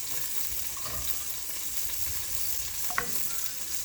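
Food fries in a pan with a steady, even sizzle and crackle throughout, broken once by a faint clink near the end.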